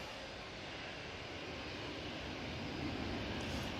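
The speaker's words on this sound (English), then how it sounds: "British Airways now coming on." British Airways jet airplane moving at Manchester Airport, a steady broad engine roar that holds constant and fills the scene without a break.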